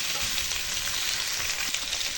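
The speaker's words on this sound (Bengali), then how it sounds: "এখন আলুটা দিয়ে দিচ্ছি, ফ্রাই করে নিব" Potatoes and tomato frying in a pan for a paneer and potato curry, a steady close sizzle and crackle with faint soft stirring, continuous and even for the whole moment.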